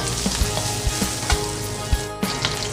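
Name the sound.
garlic sautéing in hot oil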